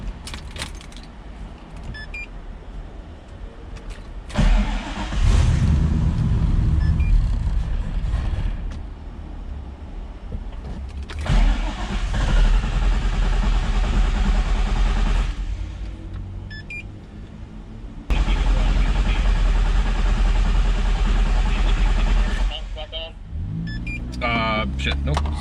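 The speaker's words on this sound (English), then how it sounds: "Start the car up?" A turbocharged NewEdge Ford Mustang running on E85 cranks and fires, then settles into a loud, steady idle that surges in a couple of heavy bursts, all close to the microphone with some brief talk nearby.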